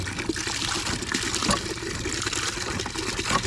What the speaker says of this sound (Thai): ถึงเรากำลังสูบน้ำบาดาล อยู่นี่ครับ